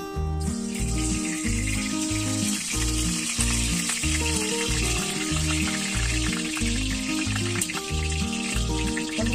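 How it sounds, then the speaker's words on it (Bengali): Shrimp coated in turmeric and salt fry in hot oil in a wok, giving a loud, continuous sizzle and crackle close up, with a repeating low thump throughout. "হলুদ আর লবণ মাখানো চিংড়ি মাছগুলো দিয়ে দেবো।"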